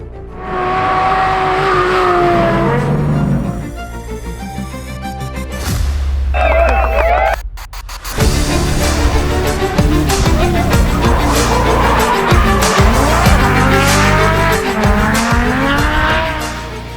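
A 1996 Toyota Mark II JZX100 drift car with a 1JZ engine revs loudly with screeching tire squeals, the pitch rising and falling as it drifts, close and continuous.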